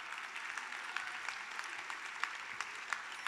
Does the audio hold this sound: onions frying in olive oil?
no